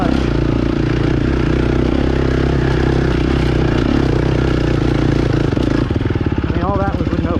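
A GasGas EX250F dirt bike engine drones loud and close as it is ridden, holding a steady pitch before rising and falling in revs near the end, with talk over it.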